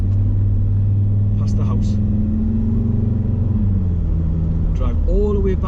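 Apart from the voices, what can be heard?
car driving along a road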